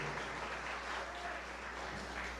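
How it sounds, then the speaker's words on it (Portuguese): A church congregation applauds in a steady, faint patter of clapping over a low background hum. "Nós também vamos aplaudir a Jesus"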